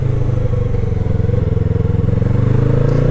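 A motorcycle rides along with its engine droning in a steady, even hum at a constant pace, loud and close with a slight rhythmic flutter and no talking.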